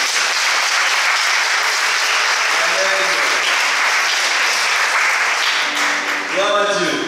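Church congregation applauding, dense sustained clapping from many hands filling the whole stretch, close and loud, with a few voices calling out over it toward the end.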